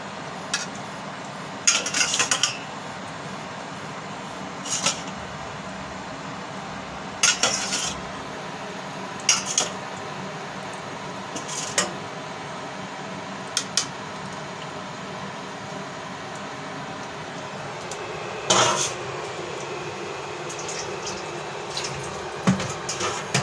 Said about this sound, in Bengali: ওই মাছগুলো যে প্লেট রাখছি নয় প্লেটটা ধুয়ে দিলাম